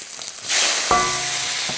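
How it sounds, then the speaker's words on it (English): Hot oil in a wok erupts into a loud, bright sizzle as pork belly hits it, then keeps crackling and hissing steadily with a brief metallic clank. "That pork is sizzling really well."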